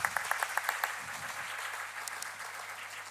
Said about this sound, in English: I would like you all to welcome our panelists with a huge round of applause.